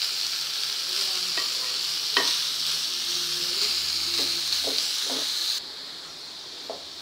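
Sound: stirring and frying sliced cabbage in a pan

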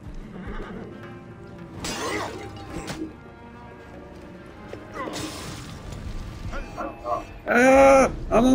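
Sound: horses neighing in the video game Assassin's Creed Origins

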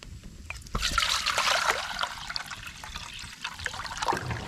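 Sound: water for boiling eggs

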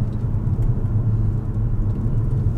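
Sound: Tesla car driving on autopilot

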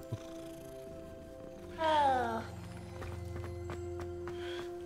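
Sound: cat in Hogwarts Legacy video game

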